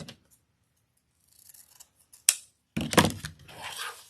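Scissors cut a dovetail end on a jelly bean ribbon for an Easter bakery wreath: one sharp snip, then a longer crisp cutting stroke through the fabric, close up in a quiet room.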